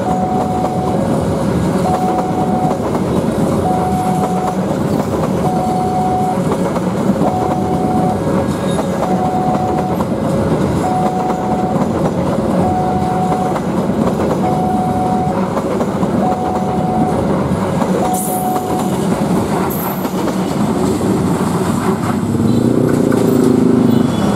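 The heavy Gumarang passenger train rolls past on the railway close by, a loud, continuous rumble and clatter of wheels with a steady repeating tone, running alone for over twenty seconds.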